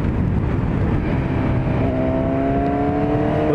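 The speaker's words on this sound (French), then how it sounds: "Et elle est terrible cette moto, elle est tellement puissante." A powerful motorcycle accelerates hard on a road, its loud engine roar and wind rush continuous and close, with rising engine tones building toward the end.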